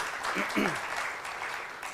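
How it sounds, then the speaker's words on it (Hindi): An audience at an inaugural session celebrating sixteen years of an organisation applauds, a steady bed of clapping with a brief voice rising over it partway through. "हम एक जोरदार ताली बजा सकते हैं"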